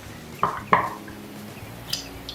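A drink, likely Ting, is stirred with a makeshift utensil instead of a stir stick, giving two quick clinks against the glass close together, then a fainter tap a moment later, over a low background hum.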